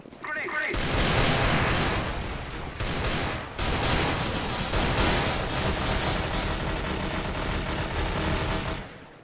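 Heavy, nearly continuous gunfire from CS:GO, a video game, with dense rattling automatic bursts, a few short breaks and a brief voice at the start.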